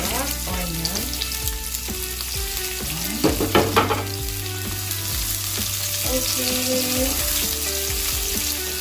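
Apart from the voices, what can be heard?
onion frying in pan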